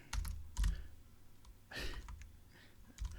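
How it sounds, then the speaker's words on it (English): Typing on a separate computer keyboard attached to a demo machine, with a few soft, scattered key clicks and clacks at an uneven pace, quiet and close, with no talk. "obviously not used to this keyboard. I got a separate keyboard for my demo machine here"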